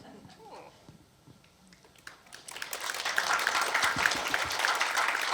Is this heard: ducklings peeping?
no